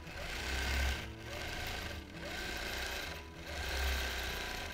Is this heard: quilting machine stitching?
yes